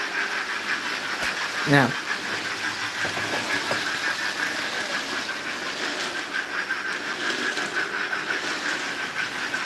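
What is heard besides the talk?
model railway themed train running on track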